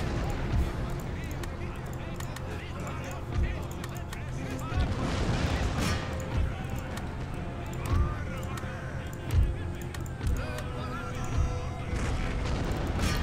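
Artillery booms in Empire Total War amid a busy battle, several deep thuds spaced a couple of seconds apart over constant rumbling gunfire and battle noise, with someone talking over it.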